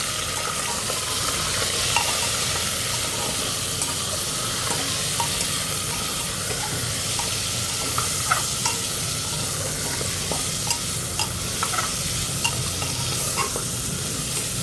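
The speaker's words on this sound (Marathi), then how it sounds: "हे तेलावर छान परतून घेऊया." Spices with turmeric and salt sautéing in hot oil, a dense continuous sizzle with frequent scraping clicks of a spoon stirring the pan, close and loud throughout with no talk.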